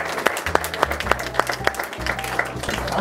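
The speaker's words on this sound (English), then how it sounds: "Can we have a round of applause for them?" An audience claps at a college foundation fundraiser, uneven scattered claps ringing out over a low hum and room noise.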